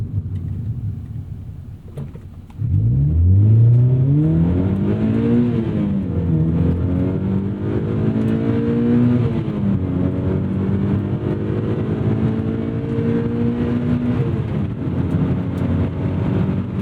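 Mazda Miata NC2 engine pulling hard under acceleration, its note climbing steeply after a gear change, then rising again through another gear in a loud, sustained in-car drone.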